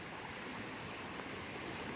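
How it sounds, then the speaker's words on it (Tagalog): Water in a creek beside a farm plot flows in a steady, continuous rush, fairly faint and with no voices. "Grabe yung tubig sa sapa."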